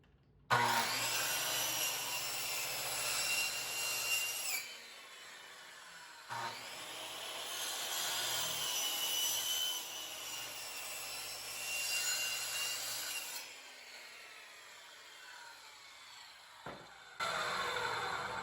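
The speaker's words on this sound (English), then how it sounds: "either drill it, cut it with the skill saw" A loud circular saw (skill saw) rips through wooden boards in long passes, engine whine steady, with short pauses between cuts and a final brief burst.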